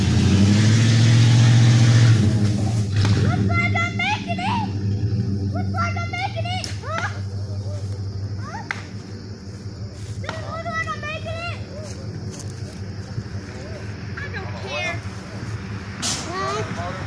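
A family pickup truck's engine idles and revs nearby, a steady low rumble that is loudest at first and then runs under a child's and an adult's voices.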